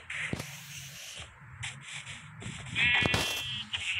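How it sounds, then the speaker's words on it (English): Sheep bleating in the video game Minecraft, a few short bleats scattered over soft shuffling game sounds and a faint high chime, fairly quiet, with no speech. "There's a black sheep."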